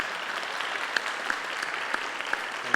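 Audience applause at a conference finale on rural strategy and policy: a soft, steady patter of many hands, somewhat distant and even in level, with a few slightly louder claps standing out and no voices.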